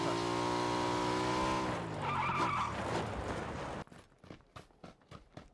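A motorcycle runs in the PUBG video game, with a loud, rising and falling engine whine and skidding tire noise, then it cuts off abruptly into a series of sharp, separate impacts.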